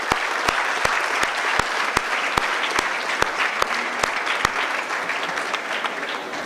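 Audience applause at a university lecture hall welcoming Dr. Chandrasekhar, a dense sustained clapping from a sizable crowd with a few sharp nearby claps standing out, fading slightly toward the end.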